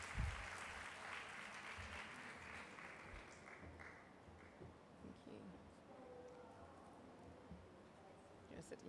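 Audience clapping to welcome panelists onto the stage at a youth climate justice panel event, strongest at first and then tapering to scattered claps, quiet, with voices murmuring underneath.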